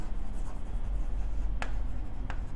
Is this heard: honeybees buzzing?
no